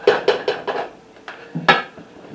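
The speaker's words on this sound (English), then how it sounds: "we're going to put the pot with the onions, garlic on the stove" A pot holding onions and garlic for smoked pork and beef chili clanks several times in quick succession as it is set and shifted on a stovetop, sharp metallic knocks close by.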